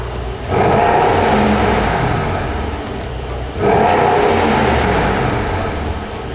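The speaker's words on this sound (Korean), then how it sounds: "이 차량 배기음 들어볼게요." A Mercedes-Benz S63 AMG 4MATIC+ (W222) engine revs twice from idle, each rev a sustained deep roar from the exhaust, loud and close.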